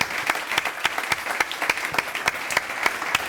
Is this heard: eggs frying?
no